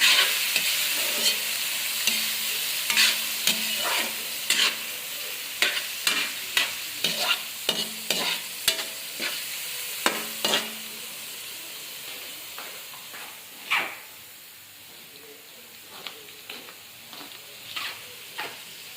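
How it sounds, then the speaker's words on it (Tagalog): Pulutan frying in a pan, a steady loud sizzle and hiss with a spatula scraping and tapping in irregular strokes, busy for the first half and then sparser as the frying continues alone. "haluin muna ng maayos guys"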